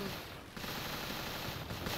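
Rapid, dense gunfire in the PSP video game Call of Duty: Roads to Victory crackles continuously, like automatic weapons firing in quick bursts, loud and close.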